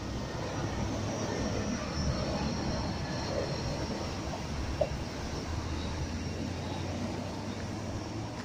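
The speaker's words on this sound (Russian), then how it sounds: "прямо рядом с мостом самолеты заходят на посадку в аэропорт Адлера." Steady low roar of a jet aircraft passing overhead on approach to land at Adler airport, a continuous broad rumble holding level throughout with no voices.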